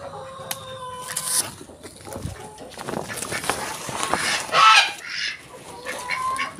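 Domestic geese and chickens on a backyard farm honk and cluck in irregular bursts, with a loud close squawk partway through and faint voices in the background.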